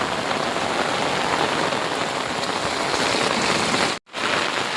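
Heavy monsoon rain pours onto a rooftop terrace in a dense, steady roar after a long dry spell, broken by one brief dip in the sound near the end.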